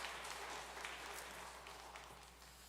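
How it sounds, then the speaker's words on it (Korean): A church congregation at a Korean Presbyterian service scholarship presentation claps together, a soft, distant patter of applause that gradually fades away. "박수해 주십시오."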